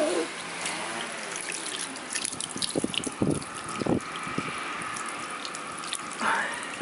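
Cold water sprays from a garden hose onto a child's face outdoors on a driveway, producing irregular splashes and spurts of water against a quieter running-water background.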